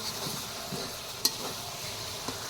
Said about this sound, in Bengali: পেঁয়াজ মরিচ ভালো করে ভেজে নিতেছি